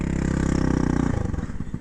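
A Honda Ruckus scooter engine idles after an adjustment to the carburetor's air-fuel mixture screw, a loud, close, pulsing putter that becomes more ragged and uneven partway through.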